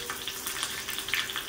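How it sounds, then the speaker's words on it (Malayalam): Mustard seeds crackle and splutter in hot oil while tempering puli inchi, a tangy tamarind-ginger relish for an Onam sadya, a steady close sizzle with soft pops. "കടുക് പൊട്ടിയതേ"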